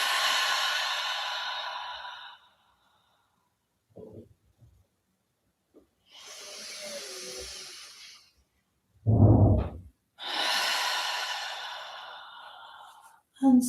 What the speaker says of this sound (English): Just long inhales through the nose and exhales through the mouth.